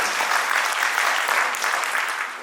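Sustained applause from a large audience at a Hindi comedy poetry gathering, a steady wash of many hands clapping that holds evenly and starts to fade at the end.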